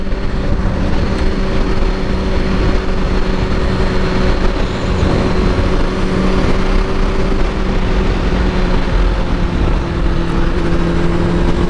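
A motorcycle rides along at a steady cruising speed on a first motovlog outing, with a loud, constant engine drone and heavy wind rush filling the whole stretch without a break.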